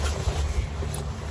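Wind buffeting outdoors on a golf course in Abilene, a short low rumbling gust on the microphone with no voices.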